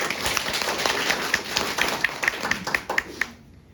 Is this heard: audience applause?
yes